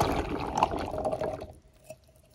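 Liquid from an opened can of chickpeas drains away in a steady splashing pour that thins out and stops, leaving a few faint drips.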